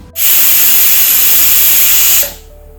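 A pressure cooker cooking mutton liver on low heat lets out a loud, close hiss of steam from its whistle, one continuous burst of about two seconds that cuts off sharply.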